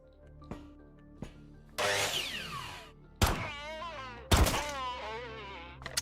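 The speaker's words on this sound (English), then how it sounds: "Nail gun, let's go!" A nail gun fires in the video game Quasimorph, sharp thunks landing a few times amid whooshing, wailing game effects, loud and close with no talk.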